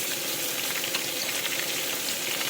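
Pointed gourd and potato sizzle steadily in hot oil in a pan, a dense, even frying hiss running throughout with no voices.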